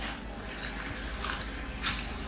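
Someone bites into Jollibee Chicken Joy fried chicken, giving a few quiet, close crunchy snaps over a soft, steady background hum.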